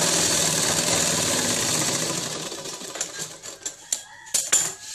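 A sewing machine runs steadily, stitching a folded fabric strip onto buckram for a dhoti shalwar, then breaks into short uneven bursts and clicks near the end; no one speaks.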